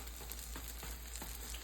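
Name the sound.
saltfish fritters frying in a pan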